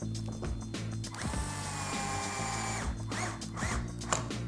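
A power drill with a 2.0 inch bit whirs in short bursts, driving screws into a Pro-Line Clod Buster RC wheel, its motor pitch rising as it runs, with ratcheting clicks between, close and fairly loud.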